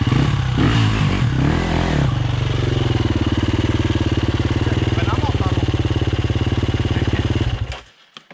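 An enduro motorcycle engine runs close by at a steady, throbbing idle-like rumble for several seconds, then cuts off abruptly near the end. Voices talk over it at the start.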